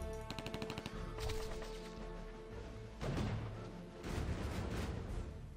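Mortar squad returning fire in the WWII strategy game 1942 Pacific Front: a rapid rattle of shots gives way to heavy booming blasts and rumbling impacts, loud and dense with no talking.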